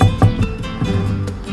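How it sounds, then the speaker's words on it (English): A bottle of homemade Puerto Rican pique hot sauce is tapped on a kitchen counter, making a few quick, dull knocks in irregular succession, close by. "a couple of taps on the counter."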